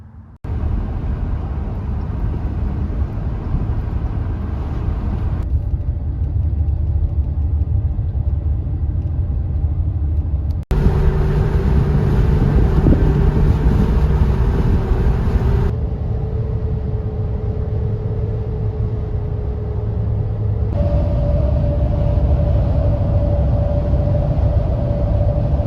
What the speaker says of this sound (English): these are my first pair of light truck tires. I don't really have anything to compare it to, but they are pretty loud